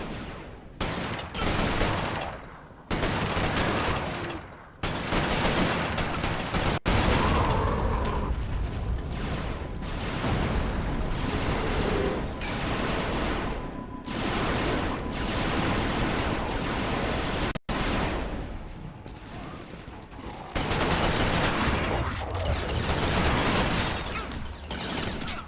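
Rapid, dense video-game gunfire from a stream, a near-continuous loud barrage of shots and mechanical clatter that breaks off in a few short gaps.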